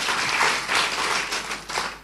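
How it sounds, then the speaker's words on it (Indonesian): A church congregation claps together in worship, a dense burst of many hands clapping that swells and eases over a couple of seconds with no talk. "Ya, tepuk tangan buat Tuhan."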